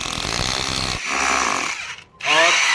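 Power drill boring into the iron mount of a DD Free Dish antenna, a loud steady grinding whir that cuts out briefly near the end and then starts up again at full strength.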